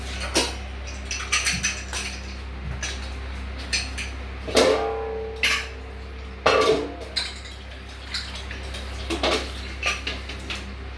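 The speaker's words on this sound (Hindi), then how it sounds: "अब अपन कुकर का ढक्कन लगा देंगे दोस्तों।" Metal clinks and clatters of a pressure cooker lid being handled and fitted in a home kitchen while cooking a bone-in curry, several sharp knocks and scrapes close by over a steady low hum, no talk.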